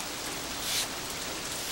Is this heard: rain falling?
yes